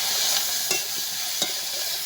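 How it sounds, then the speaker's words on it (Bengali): Prawns seasoned with salt and turmeric fry in oil in a wok, a steady sizzle broken by a few light stirring scrapes. "কড়াইতে তেল দিয়ে দেবো চিংড়ি মাছ ভাজার জন্য।"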